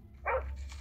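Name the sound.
dog barking in a video game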